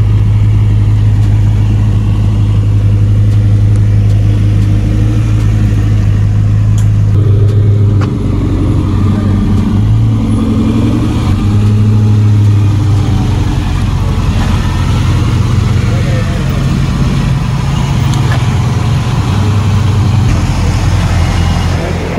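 A ported Eaton-supercharged 2003 Cobra engine runs on a dyno, a loud, steady, dense engine roar with a low droning tone that shifts partway through, continuous and close for the whole stretch without talk.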